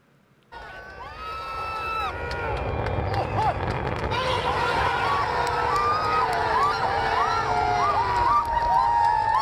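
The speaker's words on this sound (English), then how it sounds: "You hear the cheering?" Large crowd at a SpaceX company event erupts in cheering and whoops, a sudden loud roar that swells and stays dense, with high shouts and whistles rising over a wall of hubbub.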